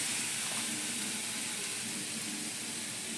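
Tomatoes frying in a pan while being stirred, a steady close sizzle and hiss with faint scraping, with no talk over it.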